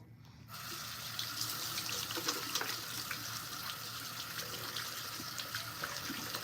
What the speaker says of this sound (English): We're just washing our face